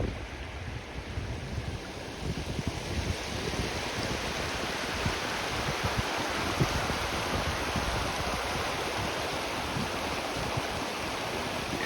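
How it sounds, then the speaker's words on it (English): A swollen creek in spring thaw floods like a river through a heifer lot on a farm, a steady, loud broadband rush of fast water running without pause and with no voices. "a river going through what was my heifer lot"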